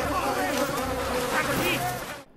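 Dense swarm of flies over frog carcasses in ancient Egypt, a film scene: continuous loud, close buzzing with wavering overlapping whines throughout, cutting off abruptly at the end.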